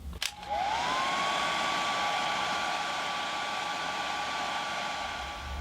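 A hot-air heat blower used on an iPhone battery runs as a loud, close, steady whine with airy rushing, starting after a brief click and holding evenly to the end, no voices.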